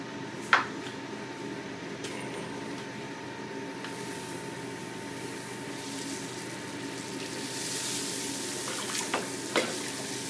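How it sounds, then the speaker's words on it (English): Grain being doughed into 7.6 gallons of water in a mash tun for a homebrewed IPA gives a steady wet churning hiss, with a few sharp clinks and splashes. "I'm going to go ahead and dough in."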